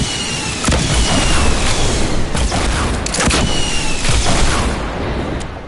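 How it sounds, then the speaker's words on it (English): Dense, loud rumbling blasts and crackling bursts fill the scene in the Fortnite video game, several explosions overlapping in a continuous noisy roar with sharp cracks scattered throughout. "Three more explosions and I should be fine."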